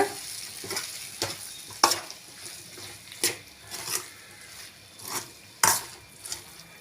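Mashed potato masala being stirred in a hot pan: rhythmic scraping strokes about once a second over a low sizzle, each stroke a crisp rasp of the spoon against the metal, close and clear with no talking.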